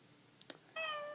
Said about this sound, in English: my cat keeps meowing